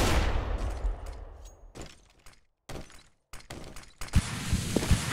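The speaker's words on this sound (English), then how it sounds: "I'm throwing a flashbang." A flashbang grenade goes off in the shooter game CS:GO, with a sharp bang fading into a long ringing hiss. Scattered gunfire cracks and clatter follow, fairly close and loud, with no talking.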